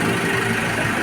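An Isuzu D-Max engine runs steadily at idle, a loud, even mechanical hum recorded up close for about a second, with no voices.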